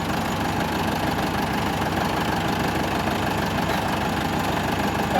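A Massey Ferguson 385 tractor engine idles with a steady, continuous rumble and rattle close by for the whole stretch, with no talking.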